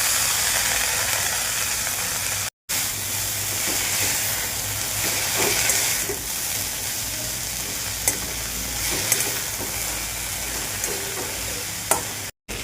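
Chopped onion and coriander sauté in a pan with a steady, close sizzle and hiss. Occasional stirring scrapes cut through it, and no one speaks.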